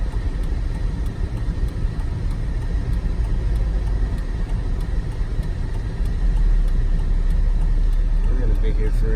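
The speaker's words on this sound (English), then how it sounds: "We're gonna be here forever waiting for this line of traffic." A car sits idling in a line of traffic, its low engine rumble steady and continuous, with road noise and a slight swell in the rumble near the end.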